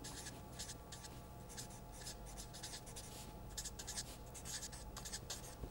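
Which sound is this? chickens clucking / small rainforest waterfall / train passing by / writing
writing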